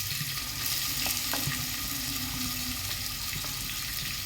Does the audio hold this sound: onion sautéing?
yes